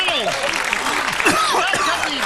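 Applause from a studio audience during a cooking show making a pear dessert: broad clapping noise runs under a man's speech throughout.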